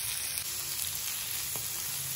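Ampalaya and egg sizzle steadily in a hot pan as they are stirred, giving a continuous close frying hiss with a faint scrape near the end and no talking.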